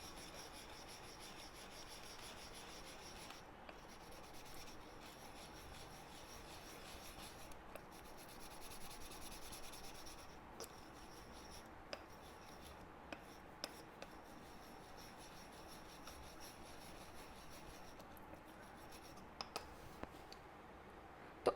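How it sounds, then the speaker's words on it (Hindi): A piece of sandalwood is rubbed with a little water into tilak paste, giving a quiet, steady scraping under faint, scattered clicks throughout. "थोड़ा सा जल लेना है और बस इसे फिर जब तक घिसते रहना है"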